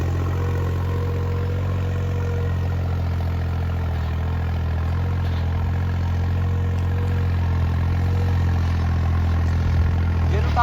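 A tractor engine idles steadily nearby, a constant low rumble for the whole stretch with no breaks.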